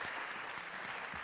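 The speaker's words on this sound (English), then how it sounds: "please give them a round of applause as they go back and take their seats" A seated audience at an Economic Society of Kenya event claps steadily as a panel returns to its seats, a thick, uninterrupted burst of hands with no voices over it.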